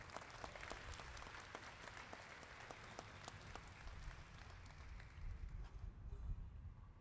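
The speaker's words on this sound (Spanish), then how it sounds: "Fuerte el aplauso para los beneficiarios." Applause for beneficiaries at a property title handover ceremony, a sustained crowd clapping heard somewhat distant and even, with low rumbling room noise swelling near the end.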